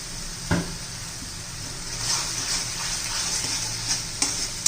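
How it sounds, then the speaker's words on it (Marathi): Tomatoes and okra sautéing in oil in a pan, a steady soft sizzle with occasional spoon clinks and stirring scrapes, fairly quiet and close. "चांगला आता तेल सुटेपर्यंत आपण परतून घेऊया"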